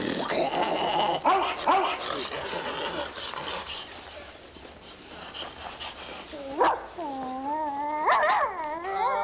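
A bird dog barks, yips and whimpers close by in short, uneven bursts, with people talking over the early barks and high whining cries toward the end.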